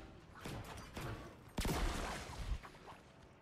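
Rapid bursts of airsoft-style gunfire from a video game, including an automatic shotgun, popping in quick clusters and building to a louder, denser volley midway.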